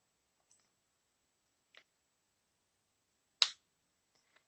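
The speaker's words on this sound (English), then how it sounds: "So I'm going to trim these a little bit." Small scissors trim a strip of false eyelashes with a few sharp, isolated snips spaced seconds apart, one louder than the rest, in an otherwise quiet room.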